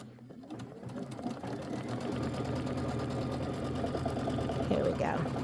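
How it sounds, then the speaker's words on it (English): An embroidery sewing machine stitches a placement stitch to hold quilt batting on a pumpkin-themed quilt border, running as a steady, close mechanical whir with rapid rhythmic needle pulses throughout. "it wants to do a placement stitch for the batting. So it's going to do the center one first"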